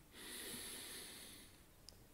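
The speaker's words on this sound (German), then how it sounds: "Wir atmen ein" A single long, soft nasal inhale during a yoga breathing exercise, close and airy, fading out before a faint click.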